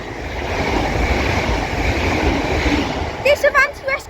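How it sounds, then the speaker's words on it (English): An Avanti West Coast class 807 passenger train passing through Mossley Hill station on the Liverpool branch of the West Coast Main Line, a loud steady rumbling roar of wheels, then a few high squealing tones near the end. "Now passing through is going to be an Avanti West Coast class 807"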